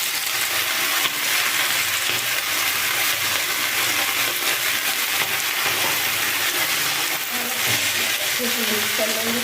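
Chopped onion hits a hot pan for a spinach, potato and eggplant vadi curry, giving a continuous loud sizzle and hiss with faint scraping and clinks of stirring throughout.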